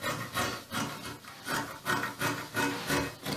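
Scissors cut through fabric for a pencil gown in steady, regular rasping strokes, each snip rising and falling in a close, even rhythm with no talking.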